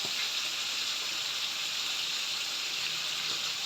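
Coconut milk simmering in a pan with banana heart, a steady soft sizzle and bubbling hiss that holds evenly throughout, close and continuous with no voices.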